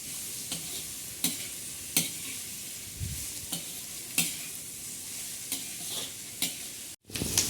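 Onions fry in a pan, being sautéed for a bitter gourd, potato and onion sabzi. A steady close sizzle carries regular scraping strokes of a spatula, and there is a brief cut near the end.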